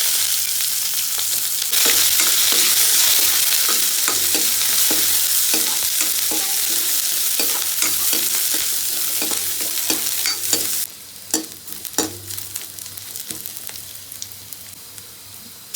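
Onions, curry leaves and spices frying in hot oil for an Assamese catfish curry, a loud continuous sizzle with the scrape of stirring, then quieter frying with intermittent clinks of the spoon.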